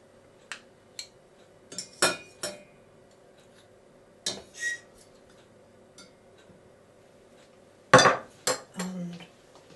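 A knob of butter going into a saucepan for carrot soup: scattered clinks and taps of a pan and utensils, a few sharper knocks near the end, close and fairly quiet with no talk.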